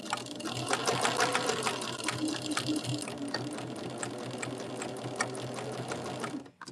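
A sewing machine runs steadily, stitching quilt block pieces together in a rapid, even whir of needle strokes for several seconds, close and clear, stopping abruptly at the end.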